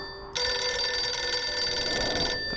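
A telephone rings in the horror video game Fright, set in a creepy motel guest room: a loud, steady ringing starts abruptly, holds for about two seconds and then cuts off, with no talk over it.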